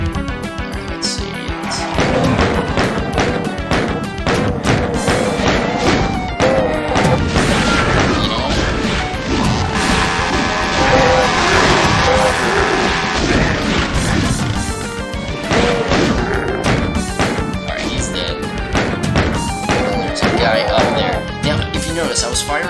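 Gunfire and blasts in the 1990s first-person shooter Doom 2, dense and loud from start to finish with repeated crashing shots over a busy game soundtrack, while someone talks across it.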